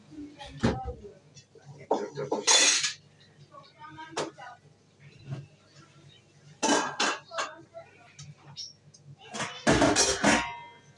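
Metal pots clank and knock against each other in a few bursts, close by, with people talking in between.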